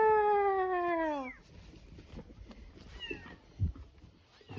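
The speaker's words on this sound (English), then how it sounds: "found the squirrel that's meowing, apparently" A squirrel-shaped toy gives a single clear, falling electronic meow, followed by soft rustling and a light thump nearby.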